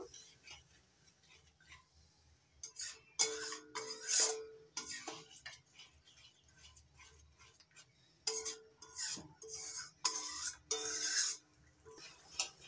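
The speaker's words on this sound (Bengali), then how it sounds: "মশলার সঙ্গে সর্ষের রসটা ভালো করে মিশিয়ে নেব" A spoon stirring strained mustard juice into spices in a pan while cooking tilapia, with intermittent scraping and clinking in short bursts, faint and close, beneath a talking voice.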